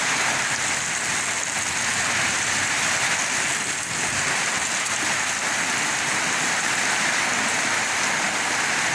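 A Toyota Vigo Champ 4x4 pickup is washed with a spraying water jet, a steady loud hiss of water running without pause throughout, with no talking.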